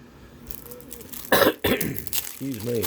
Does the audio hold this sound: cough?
yes